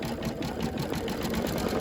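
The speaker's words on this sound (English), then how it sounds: "I'll have to drag out the sewing machine to sew up" Electric sewing machine running steadily to sew up a seam on a garment during an embroidery project, a continuous fast whirring motor drone with rapid needle clatter, close and alone.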